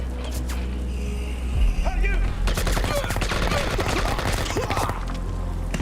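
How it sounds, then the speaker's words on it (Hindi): Bursts of enemy gunfire in the shooter game Project IGI, loud rapid automatic shots and crackling volleys running continuously at close range, with voices faintly mixed in. "जब मैं सीढ़ी से उतरा तो अचानक इन्होंने फायरिंग कर दी।"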